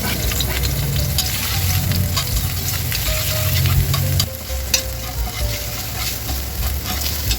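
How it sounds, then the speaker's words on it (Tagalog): Garlic fried in cooking oil in a pan, a steady loud sizzle with crackling and faint stirring, running throughout with no voices. "meron na tayong nailagay na mantika sa ating kawali. Kaya ilagay na natin guys yung ating bawang"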